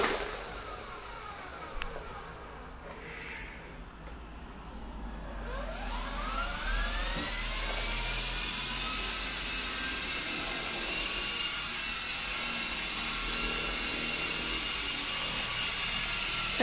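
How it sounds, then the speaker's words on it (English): A Honeybee FP radio-controlled model helicopter spools up and flies, its rising rotor and motor whine building after a quiet start into a steady, sustained high buzz close by. "Sounds like a real helicopter."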